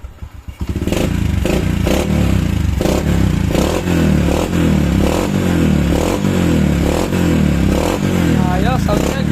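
A restored Honda Wave motorcycle engine runs steadily close by after a rough start, its loud idle chugging with rhythmic pulses and occasional rattly revs throughout.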